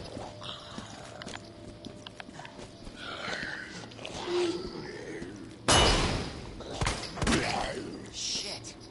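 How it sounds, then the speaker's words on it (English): A flashbang grenade detonates in Resident Evil 2 with a sudden loud broadband blast partway through, followed by lingering noisy ringing and scattered impacts over quieter game ambience. "Flashbang."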